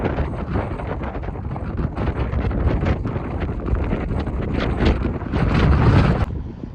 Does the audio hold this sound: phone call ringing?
no